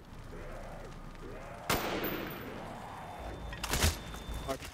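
RPK machine gun fire in Black Ops zombies comes as a sudden sharp burst followed by a few more rattling shots, with a voice talking underneath.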